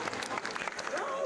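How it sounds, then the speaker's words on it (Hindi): Applause from an audience at an outdoor statue unveiling ceremony in Shimla, a dense steady patter of clapping over a short stretch with a voice faintly mixed in. "एक बार पुनः जोरदार तालियां श्रीमती प्रियंका गांधी वाड्रा जी के सम्मान में"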